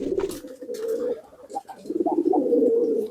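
A pigeon in poor health coos close up, with two soft, low throaty phrases separated by a short pause.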